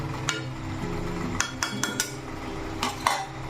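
Mutton stirred in a metal pot, a spoon scraping and clinking against the sides in several sharp knocks over a low steady sizzle, close with no talk.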